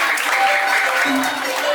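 At an English and character camp in a villa, a group claps in a brief, steady burst of applause while voices carry over the top.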